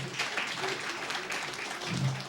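Audience applause at a cyber security conference, a steady patter of many hands clapping in a hall, moderately loud and continuous for the whole stretch, with faint voices mixed in.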